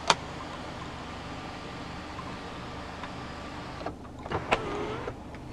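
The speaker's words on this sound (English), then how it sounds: "pull on the lever once more to close the shade." The electric sunroof shade of a 2015 Mercedes-Benz E 300 BlueTEC Hybrid closes with a steady motor whir inside the cabin, beginning with a sharp click and ending with a few clunks as the shade seats, with no talking.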